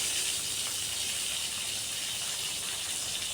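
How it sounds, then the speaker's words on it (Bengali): Potatoes fry in oil left over from frying fish, a steady bright sizzle and hiss that holds evenly throughout, close and moderately loud with no talking. "এবার ওই মাছ ভাজার তেলের মধ্যে আলু ভেজে নিচ্ছি।"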